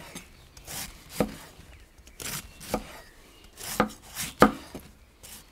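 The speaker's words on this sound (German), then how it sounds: "Und dann brauchen wir uns den einfach nur hinlegen und hier so runterschneiden, dass wir so richtig schöne, feine Stücke haben." A knife cuts white cabbage into fine strips on a board, about eight crisp chops spaced unevenly, close and distinct over a quiet background.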